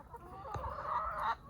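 Backyard chickens on a UK smallholding cluck softly while eating a probiotic yogurt mix, a few short throaty clucks and a brief rising call, close by over quiet background.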